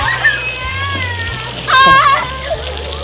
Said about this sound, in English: on to the brand new splash pad now